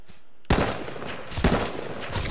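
Gunfire in the video game H1Z1 in loud, dense bursts, with a sharp onset followed by sustained rattling shots and a second strong burst midway, continuing to the end.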